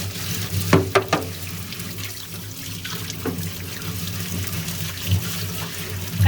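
Faucet water runs steadily into a kitchen sink while a scrub brush works the basin, with splashy knocks and scraping bursts over the continuous flow; close and fairly loud, no voices.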